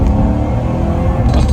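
A 1980 Porsche 928 with a five-speed manual revs hard, its engine a loud, steady, dense rumble that swells slightly near the end with no pauses.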